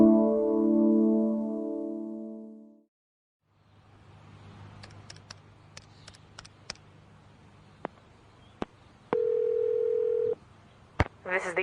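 Telephone for a collect call: a steady dial tone, then a pause, then a faint line hiss with a series of short button presses and beeps, one longer tone, and a couple more clicks at the end.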